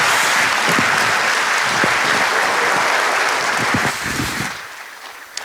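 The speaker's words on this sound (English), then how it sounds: "please give a round of applause to the one and only Aliko Dangote." Loud, dense audience applause at a large conference meeting fills the room, then tapers off and fades near the end, with a few faint voices mixed in.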